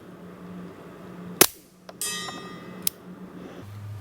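A suppressed Glock 44 pistol fires one sharp, loud shot, followed by a metallic ring from a steel target and a second faint crack, at a range where chronographs are in use.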